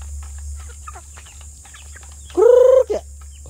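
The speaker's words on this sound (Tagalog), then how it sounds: "Ito yung ating ilang manok." Backyard chickens near a hut give soft, scattered clucks, then one bird lets out a loud, drawn-out squawking call followed by a short cluck, close by.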